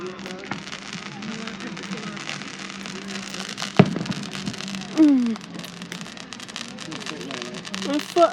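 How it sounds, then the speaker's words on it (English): Fourth of July fireworks crackle and pop at a distance, with a sharp louder burst partway through, while people talk and exclaim nearby. "Fireworks."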